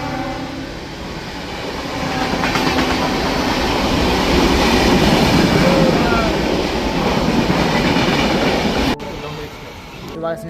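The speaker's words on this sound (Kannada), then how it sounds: "ಈಗ ಟ್ರೈನ್ ಸಹಿತ ಬರ್ತಾ ಇದೆ." A train pulls into a railway station with a loud, building rumble and rhythmic clatter of wagons rolling close past, holding strong for several seconds before cutting off abruptly near the end.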